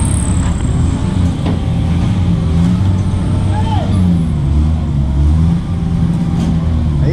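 A tow truck's engine runs hard while lifting an illegally parked car off a sidewalk, a loud close diesel rumble holding steady with slight rises in revs, with people talking over it.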